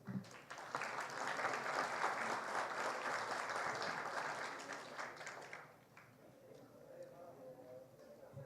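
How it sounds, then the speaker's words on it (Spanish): An audience at a legal seminar gives loud, sustained applause to welcome a center director, a dense clapping wash that fades after about six seconds into quieter room sound. "a quien recibimos con fuertes palmas"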